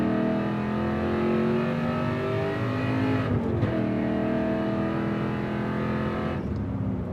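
The LS3 V8 engine of a 1991 GMC C1500 pickup roars close and loud, climbing in pitch as it accelerates hard, with brief dips between gear shifts.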